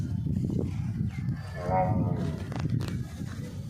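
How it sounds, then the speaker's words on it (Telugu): A Jaffarabadi buffalo lets out a deep, drawn-out low over a steady background of rustling and voices nearby. "ఇది జఫ్రాబాద్ గేదె అన్న"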